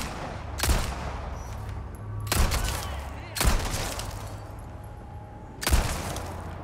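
Four loud, sharp gunshots from the Resident Evil 4 Remake game crack out at uneven intervals, each a sudden burst that fades quickly over a low ambient hum.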